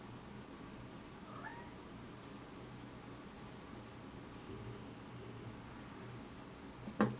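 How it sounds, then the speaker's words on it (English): A house cat meows once, faint and fairly distant, at a cat door it finds locked. The room is otherwise quiet apart from a low steady hum, and a sharp knock sounds near the end. "I'm guessing he is meowing because he thinks his cat door is locked."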